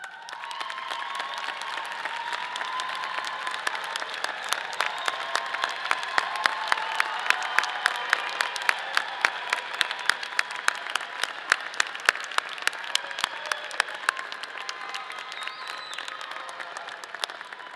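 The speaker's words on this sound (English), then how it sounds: "please rise so that we can applaud you" Sustained applause from a large audience at a college commencement ceremony, steady dense clapping rising slightly and holding for the full stretch without speech.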